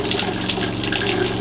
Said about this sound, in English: We'll go ahead and turn our shower faucet on here.